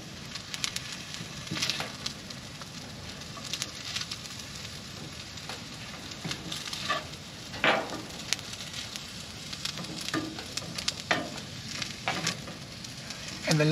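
Peas and fried rice sizzle and crackle in a pan on a wood stove inside a winter hot tent, a steady low hiss with occasional pops and stirring scrapes, close and moderately quiet.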